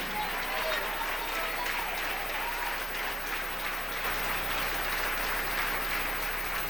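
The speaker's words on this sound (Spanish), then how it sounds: "Dele ese aplauso al Rey." Congregation applause at a church service, a dense steady wash of clapping hands from a large crowd, loud and continuous throughout with no individual claps standing out.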